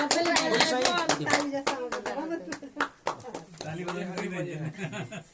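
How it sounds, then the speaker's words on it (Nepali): Hand clapping at a Nepali sacred-thread (janai) ceremony, sharp repeated claps mixed with chuckles and close conversational talk among several people. "ताली बजाउनु न"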